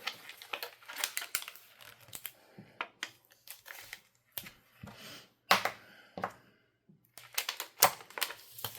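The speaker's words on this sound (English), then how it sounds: "Let's go ahead and get my transfer tape going here." Cricut transfer tape handled at a craft table, heard as close, quiet crinkles, peels and sharp taps in irregular bursts with brief pauses between them.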